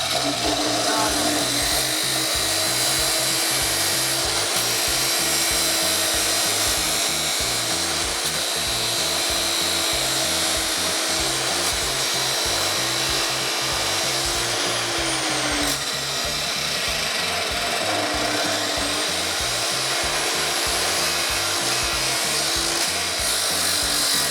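A disc cutting machine grinding through a plumbing pipe, a loud continuous abrasive whine and rasp that holds steady for the whole stretch, close up, with a voice speaking over it.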